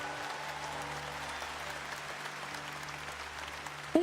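A congregation applauds at a Catholic Mass, a steady wash of clapping from many hands spread through a large space. It stays fairly even and moderately soft throughout, then ends in a brief sharp tone.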